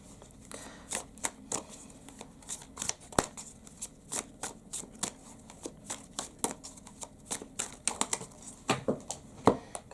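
Tarot cards being shuffled up close, with quick papery riffles and sharp snaps repeating in an irregular rhythm and no talking.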